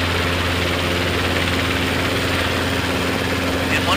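A Robinson R22 helicopter hovers with its engine running, a loud, steady drone heard from close by with low, even rotor hum throughout.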